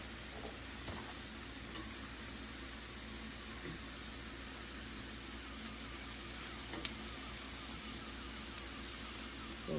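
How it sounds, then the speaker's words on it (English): Beef and cheese wontons fry in hot oil with a steady, even sizzle and crackle that holds close and fairly loud throughout, with a few faint clinks of stirring. "those wontons browning up quick"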